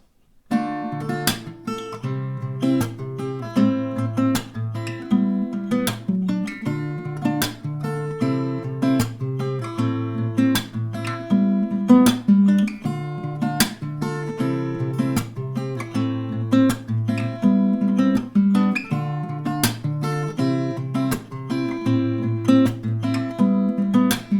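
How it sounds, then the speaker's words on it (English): Acoustic guitar plays alone with a steady rhythm, mixing strummed chords with individually picked notes, close and clear. "how to pretty much pick the notes and do some strumming"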